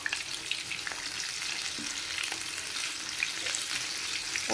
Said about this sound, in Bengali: এই বড়াগুলো আমি ভাজছি